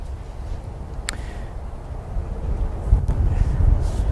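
Outdoor wind buffeting a microphone on a golf practice spot, low rumbling gusts swelling and easing, growing stronger toward the end.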